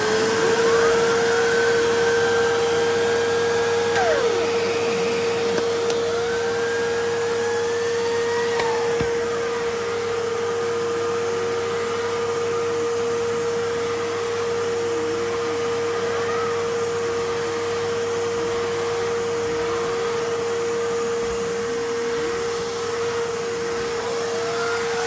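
A 1980s Hitachi 790 bagless cylinder vacuum cleaner running with a turbo head attached, a loud, unbroken motor drone with a strong steady whine and a faint wavering tone from the spinning brush, lasting throughout with no talk.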